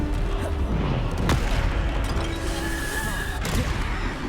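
Bombarda spell explosions erupt in Hogwarts Legacy combat, heavy booming blasts with a sharp burst near the middle and another toward the end, over a dense, continuous wash of battle noise.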